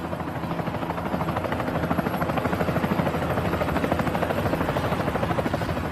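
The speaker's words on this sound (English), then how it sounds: "The small helicopter can barely lift her" A small helicopter lifts off, its rotor beating in a steady rapid rhythm, loud and close, with an engine hum underneath throughout.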